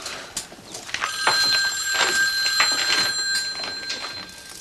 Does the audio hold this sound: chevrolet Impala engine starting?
no